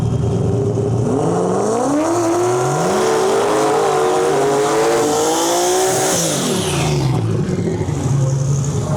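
Drag racing at World Cup Finals, with a Nissan GT-R facing a Pro-Charged Mustang Shelby: loud race engines rev and climb in pitch over several seconds, then sweep sharply down near the end, with faint tire squeal in the mix.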